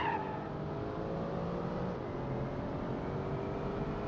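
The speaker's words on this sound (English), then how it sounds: "And an almost silent engine, has to be said." A V16-powered sports car in the Automation game drives at speed, with a smooth, fairly quiet engine hum and faint tire noise sustained evenly throughout.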